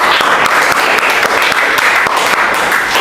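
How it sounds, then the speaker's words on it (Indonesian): Students clap in a classroom, a dense, loud burst of applause lasting about three seconds without pause. "Oke, kasih aplaus dulu."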